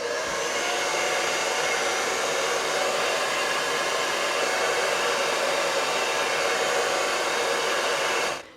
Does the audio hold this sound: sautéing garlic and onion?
no